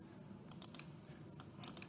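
Quick bursts of keyboard typing while working in Excel on a computer: a few light clicks, then a pause, then another short cluster of keystrokes, all faint and close against a quiet background hum.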